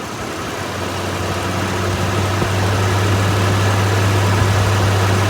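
The engine of a 1965 Ford Ranchero is held at raised revs, a loud, steady, close-up drone with a strong low hum that climbs slightly and then holds evenly throughout.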